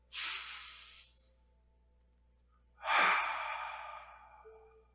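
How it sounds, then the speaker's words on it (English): Two deep breaths taken during a guided gratitude meditation: a soft close inhale that fades out, a pause of near silence, then a stronger airy exhale that tapers away slowly. "take another deep breath"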